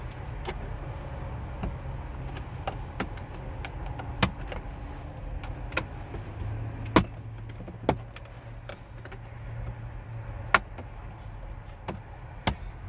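Plastic interior trim panel in a Buick Envision pried off with a panel removal tool and fingers, giving a series of sharp clicks and snaps at irregular intervals over a quiet background.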